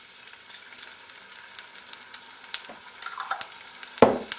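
Chopped ginger fries in a pan, a faint, light crackle with scattered soft pops, ending in a sharper clatter as it is stirred.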